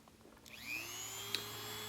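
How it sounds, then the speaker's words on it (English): A Dremel rotary tool with a 115 cutter spins up to a high steady whine as it carves wood, the pitch rising then holding, close and continuous. "So now I'm just using a standard Dremel cutter."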